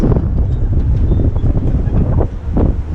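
Strong wind buffeting a microphone, with low rumbling gusts that rise and fall continuously and no talking.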